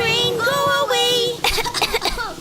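A child coughs in a cough syrup advertisement: a strained, voiced vocal sound, then a burst of several harsh, close coughs in a rough rhythm.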